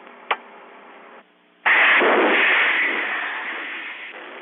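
A torpedo fires from a 1960s US Navy nuclear attack submarine, a sharp click followed by a sudden loud rushing whoosh that slowly fades, heard over a narrow old recording.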